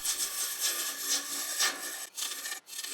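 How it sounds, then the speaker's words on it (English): A one-inch spindle roughing gouge cutting laburnum wood on a lathe, a steady, close, hissing shear that swells and fades in passes, with two brief dips where the tool lifts off. "switching over to a little 1 inch spindle roughing gouge just to get rid of that material there that I don't need"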